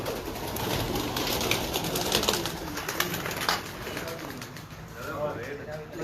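Pigeons coo repeatedly indoors, a soft, throaty rolling sound that recurs throughout at close range, while people talk over it.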